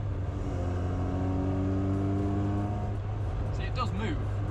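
Classic Austin Mini engine droning steadily at close range with a low, even hum, then easing off toward the end as faint voices talk over it.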